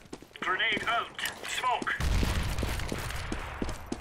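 Sharp gunshots in CS:GO, a handful of distinct cracks following a stretch of other game noise and voices, with talk running over them.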